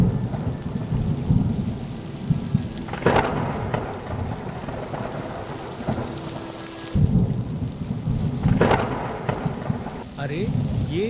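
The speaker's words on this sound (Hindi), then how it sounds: "तभी तेज बारिश शुरू हो गई।" Heavy rain pours steadily in a forest with a dense hiss, broken by rumbling thunder cracks, loud and close throughout.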